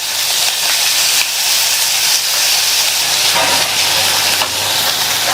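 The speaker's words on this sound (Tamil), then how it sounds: "1 நிமிஷம் போல வதக்கி விட்டுக்கங்க." Tomatoes and mint leaves sautéing in a pan for an idli kurma, a loud continuous hiss and sizzle with no talking.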